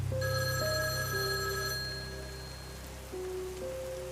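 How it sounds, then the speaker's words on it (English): An old rotary telephone bell rings in steady bursts, fairly close, on a desk, with rain pattering in the background and no voices. "the old rotary phone on my desk started ringing"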